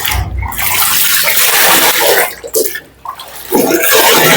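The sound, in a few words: water splashing while rinsing clothes by hand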